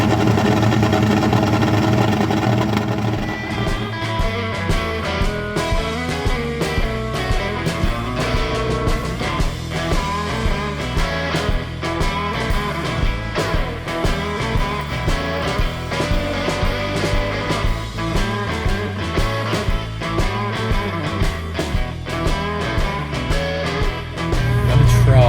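A car engine runs steadily near the listener, a loud continuous idle with a rhythmic mechanical chug and slight rises in tone, heard alone without voices.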